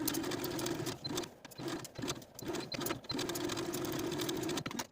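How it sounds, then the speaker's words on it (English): Sewing machine stitching bias tape onto the armhole of a square-neck ruffle tank top, a close steady motor hum broken by several brief stops and restarts. "now I'm going to take this to my machine and sew my bias tape to the armhole"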